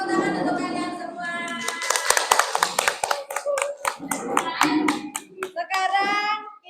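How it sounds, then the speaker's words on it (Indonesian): Schoolchildren and audience clapping in a classroom, sharp uneven claps that build in the middle then thin out, with children's voices chattering over and between them. "Beri tepuk tangan untuk kalian semua."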